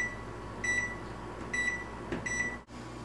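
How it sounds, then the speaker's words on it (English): A microwave oven in a kitchen sounds three short, evenly spaced electronic beeps over a steady running hum. "the buzzer just went off"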